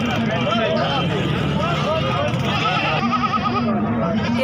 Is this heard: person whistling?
no